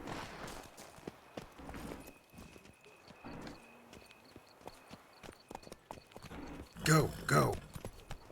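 Roach, a horse in The Witcher 3 video game, clip-clops along in a steady hoof rhythm under frequent shouted talk, with louder bursts of sound near the end.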